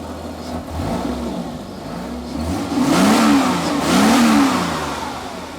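A Jaguar car engine fires and revs while still cold, rising in two swelling pulls of throttle over a steady running note, loud and close.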